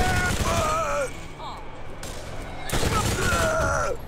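Rapid sustained gunfire from the Fanarchy shotgun in the Borderlands video game, a multi-projectile gun with an 82-round magazine, rattles loudly throughout, briefly easing midway, with game voices sounding over it.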